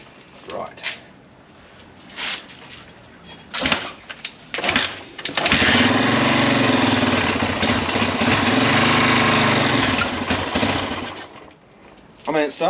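A Yamaha XT350 motorcycle engine fires after a kick start and runs loudly for several seconds before dying down, with someone talking around it.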